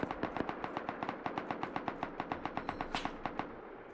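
Automatic gunfire in the game Rust: a steady, evenly spaced burst of about twenty sharp shots at a brisk rhythm, fairly close and sustained, with a brief bright ping near the end.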